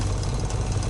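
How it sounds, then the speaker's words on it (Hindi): A motorcycle arriving at a village crossroads, its engine giving a steady, close, low rumbling idle with no pauses and no voices. "थोड़ी ही देर में राहुल वहां अपनी बाइक से पहुंच जाता है।"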